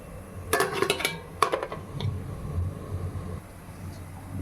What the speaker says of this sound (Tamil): இப்போ இட்லி பாத்திரத்தில் வச்சுருவோம்.